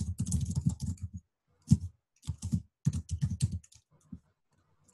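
Typing on a computer keyboard comes in quick clustered bursts of close clicks separated by short pauses, fairly crisp and alone without speech.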